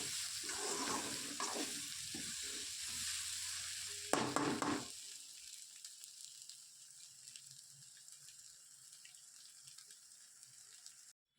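Scrambled egg and cooked rice are stirred in a frying pan, with scraping and soft sizzling up front. A sharp clatter comes partway through, then a quieter, fainter sizzle with light tapping to the end.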